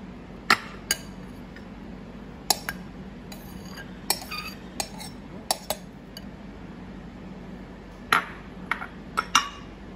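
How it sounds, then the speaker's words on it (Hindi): Sharp clinks and taps ring out at scattered moments as raw papaya salad with soy sauce, sugar-free powder and vegetables is tossed in a bowl, the small utensil knocks sounding close over a quiet background. "सब इंग्रेडिएंट्स को हम मिक्स करते हैं।"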